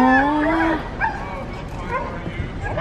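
Excited dog giving a drawn-out whining yelp, then shorter yips and whimpers, close and loud, while people talk over it.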